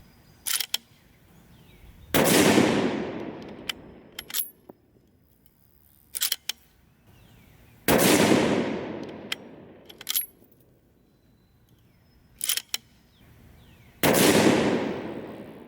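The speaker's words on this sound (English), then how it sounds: "So we're shooting a Sierra bullet loaded by Sig." A Ruger M77 Mark II .22-250 rifle fires Sig-loaded 40 grain Sierra rounds: three loud, sharp shots spaced about six seconds apart, each with a ringing decay. Between shots come brief metallic clicks of the bolt being cycled.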